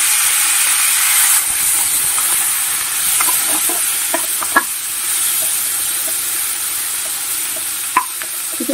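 Chopped spices fry in hot oil with a loud, steady sizzle and hiss close by, broken now and then by faint stirring clicks and pops.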